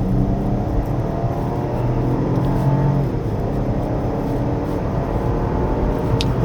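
A 2025 Chevrolet Trax RS crossover with a six-speed automatic accelerates along a winding road, its engine and tire noise a loud, steady, close drone that swells slightly mid-way, heard from inside the cabin.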